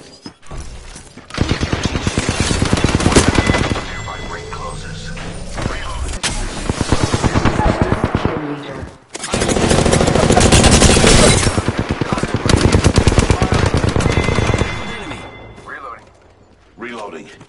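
Apex Legends gunfire: sustained rapid machine-gun bursts in two long loud stretches with shorter volleys between, while character voice lines play over the shooting.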